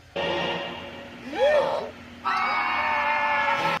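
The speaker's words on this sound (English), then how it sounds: "Just have nothing but the actors screaming at the top of their lungs" Actors in a Smurfs movie trailer scream and shout at the top of their lungs, loud sustained bursts with a brief rising whoop in the middle and another long yell near the end.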